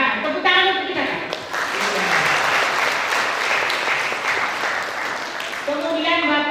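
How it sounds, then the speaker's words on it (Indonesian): Audience applause fills a school pledge and induction ceremony at a vocational high school, a steady dense clapping that runs loud throughout, with a voice speaking over it at the start and again near the end. "tepuk tangan untuk kita Kak."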